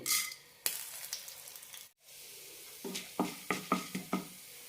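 Urad dal frying in a teaspoon of coconut oil in a pan, a soft sizzle with a few scrapes, then a short pause and a run of rhythmic stirring taps, all fairly quiet.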